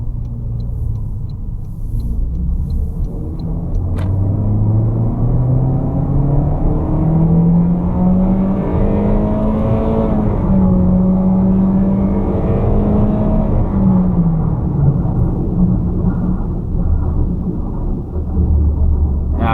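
A 2025 Toyota Corolla engine revving up steadily toward the red line, a loud continuous rising drone heard from inside the car with no talking.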